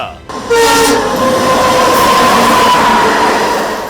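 A train roars past up close, loud and steady, with a sustained horn tone and rumbling wheels throughout.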